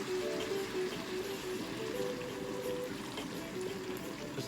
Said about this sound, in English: I'm gonna add a little bit more water.